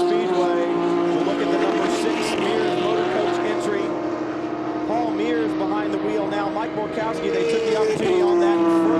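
Paul Mears' number 6 race car running on the banking in a Rolex Sports Car Series race, with a sustained engine drone and passing whooshes under continuous commentary.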